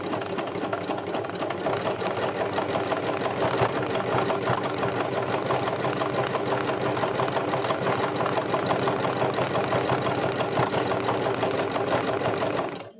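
A domestic sewing machine stitching a zigzag embroidery, with a fast, steady mechanical whirring and clatter running continuously, then stopping abruptly at the end.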